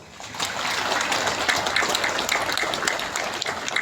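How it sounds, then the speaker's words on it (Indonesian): Students clap their hands together at a school ceremony at a junior high school, a steady, dense round of applause from a large group that swells quickly and holds without pause. "Coba tepuk tangan dulu."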